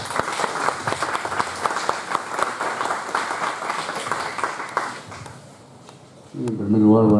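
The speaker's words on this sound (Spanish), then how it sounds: "Aplauso, por favor." Audience at an evening lecture on identity, modernity and the vernacular claps for the invited speaker, brisk dense applause that fades after about five seconds, followed by a short lull and then a voice starting to speak.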